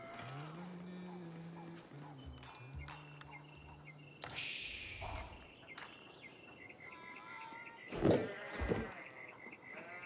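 Sheep bleat in the real-time strategy game Age of Empires IV, several wavering calls near the start, then softer game effects, clicks and a couple of brief louder bursts later on.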